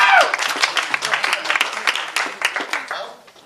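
Short burst of audience clapping at an outdoor farm campaign kickoff for a congressional candidate, loud at first and then thinning and fading out over a few seconds, with voices mixed in.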